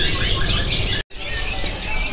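Caged canaries of the F1 series at a bird market kiosk chirp and trill in a dense, steady chorus, with one brief dropout midway.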